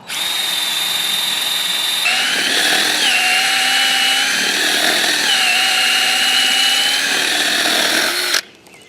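A portable drill bores into a log, whining steadily with a high, continuous motor tone that dips slightly under load a few times, loud and close, then cuts off abruptly.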